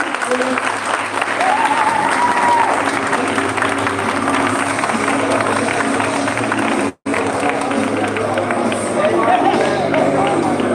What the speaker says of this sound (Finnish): Aplodit Anna-Sarja!